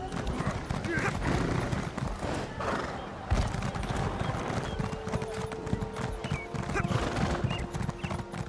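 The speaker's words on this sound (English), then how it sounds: "It's good to see a little bit of speed on our horse now." A horse ridden at speed in the video game Elder Scrolls Online gives quick rhythmic hoofbeats with a neigh, under someone talking.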